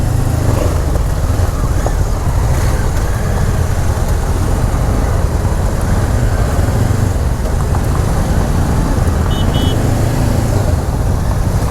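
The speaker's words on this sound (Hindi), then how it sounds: "और लग गई है पहाड़ों में ट्रैफिक।" Road traffic on a mountain road, heard from a motorbike: a continuous loud rumble of engines and tyres with a steady low drone that stays close and constant throughout.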